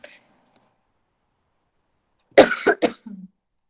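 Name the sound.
cough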